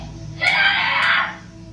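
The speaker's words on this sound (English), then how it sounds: "the obvious screams from the girl inside as she notices the men at the door" A girl inside a house screams once in a sustained, loud, high-pitched cry lasting nearly a second, picked up by a doorbell camera over steady background hum.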